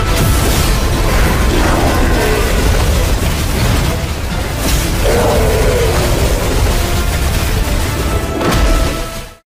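Dense, roaring animated explosion effects from the donghua Battle Through the Heavens rumble continuously with crashing bursts throughout, loud and full, ending abruptly.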